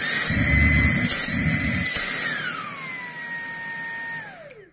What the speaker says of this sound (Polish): w trybie turbo ten odkurzacz ciągnie jak standardowy odkurzacz stacjonarny na kabel